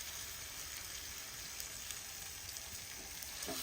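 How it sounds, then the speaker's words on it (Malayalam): Masala-coated fish frying in hot coconut oil, giving a steady, dense sizzle and crackle throughout, loud and close with no talking. "എണ്ണ ചൂടായിട്ടുണ്ട് നമുക്ക് അങ്ങോട്ട് അങ്ങ് പൊള്ളിച്ചെടുക്കാം ആദ്യം"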